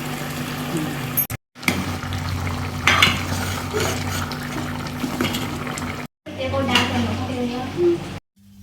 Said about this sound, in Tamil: கருவாட்டு குழம்பு பார்த்திங்கன்னா செம்மையாக கொதிக்குது.